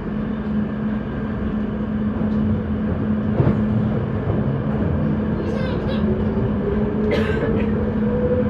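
A London Underground Piccadilly Line 1973 stock train runs along the line, producing a loud, steady rumble with a droning motor hum, brief rattles and squeals, and a faint voice underneath.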